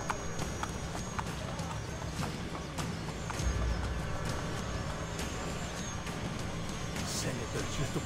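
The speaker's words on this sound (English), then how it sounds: "Oh my god, this horse." Horse hooves clip-clopping in the video game Assassin's Creed Brotherhood, a steady galloping rhythm under ambient game noise and music, with a voice talking over it.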